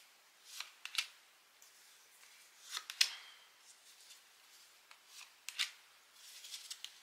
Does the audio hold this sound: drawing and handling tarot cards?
yes